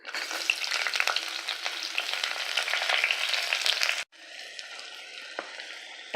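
Onions frying in a pan for egg biryani, a steady crackling sizzle heard close up with no voices, the hiss dropping abruptly to a quieter, thinner sizzle near the end.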